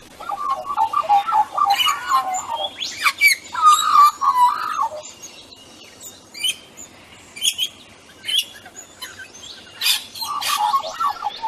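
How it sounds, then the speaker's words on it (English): Australian magpie song: bright warbling phrases and sharp chirps in several bursts, clear and fairly close over a quiet background. "And yet they have this really beautiful bird song."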